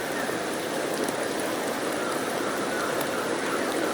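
Steady rain pours in the Wuthering Waves video game, a dense, even hiss of falling water that stays loud and unbroken throughout, with no voices.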